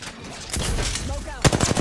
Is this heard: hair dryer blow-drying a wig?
no